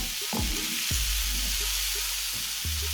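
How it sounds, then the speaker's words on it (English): A creamy spicy prawn stir-fry sizzling in a pan, with steady frying hiss, occasional utensil scrapes and a low hum underneath. "give that a good stir"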